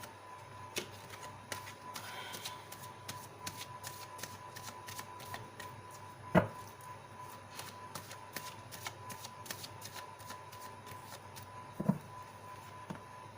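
Tarot cards being shuffled in a quiet room, a steady run of soft, crisp riffles and flicks with a couple of sharper slaps of cards landing, no talk.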